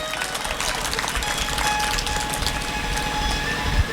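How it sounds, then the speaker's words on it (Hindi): An audience at a Shrimad Bhagavat Katha religious discourse in Bhadohi claps loudly and steadily, a dense continuous applause that fills the whole stretch. "एक बार इनके लिए ताली बजाइए जोरदार"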